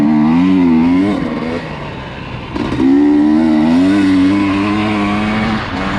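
A 2020 KTM 250XC TPI two-stroke dirt bike engine revs up and down in smooth rising and falling sweeps, close and loud, with a brief dip in the middle before it climbs again.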